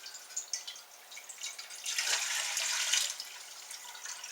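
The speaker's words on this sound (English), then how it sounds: "our boiled priming liquid" Boiled priming liquid poured into a one-gallon apple cider bucket, a steady close splashing trickle of liquid that swells in the middle and then eases, with no talking.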